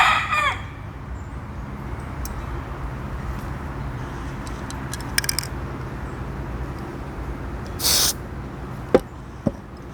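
Backyard chickens clucking in steady background noise, with a rooster crowing loudly near the end and a few sharp clucks and calls scattered throughout.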